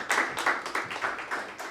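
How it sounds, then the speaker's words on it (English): Audience applause at a tech conference event, a burst of steady clapping from many hands filling the room, close and even throughout. "All right, and round of applause."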